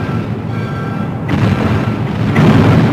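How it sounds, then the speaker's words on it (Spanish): Artillery fire from the cannon exchange at the Battle of Waterloo in 1815, a continuous low rumble of booming shots that swells louder toward the end. "Durante unos minutos hay un cruce tremendo de cañonazos"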